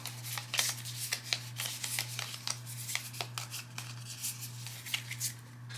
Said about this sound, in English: and we shuffle them up.